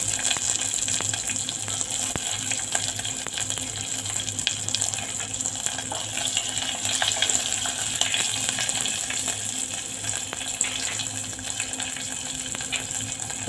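Green chillies sizzle in hot oil already seasoned with mustard seeds and curry leaves for khaman dhokla: a continuous, close, loud frying hiss with small sputtering pops, and no voices.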